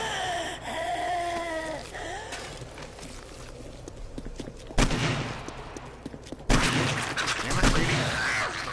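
Two sharp gunshots a couple of seconds apart ring out in 7 Days to Die on PS4, set against a busy backdrop of game noise and creature sounds, with a few fainter knocks between them.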